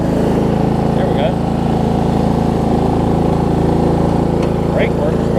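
An old Murray riding lawn mower engine runs at a steady, loud idle close by, a continuous droning rumble throughout, with a voice faintly audible in the background.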